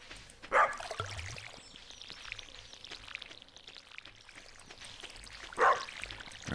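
A cartoonish game dog in Stardew Valley yips twice, short bright barks spaced several seconds apart over a soft, steady backdrop of farm ambience and gentle music.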